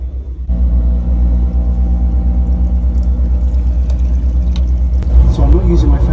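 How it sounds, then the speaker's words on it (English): Inside the toilet at the back of an overnight sleeper bus heading to Washington DC, a heavy, steady engine and road rumble drones loudly and continuously, with a brief rattle near the end. "I want you to get a sense of just how noisy this bus toilet is."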